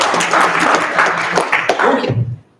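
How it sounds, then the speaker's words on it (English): An audience at a local district candidates forum applauds briefly, with a short burst of dense clapping that dies out quickly near the end, a voice starting up as it fades. "you guys, you can applaud now for 1 second"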